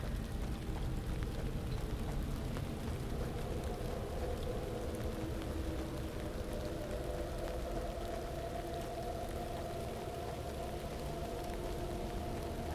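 Heavy rain pours down in a video game, a faint, steady wash of falling water with a low rumbling bed and no talking.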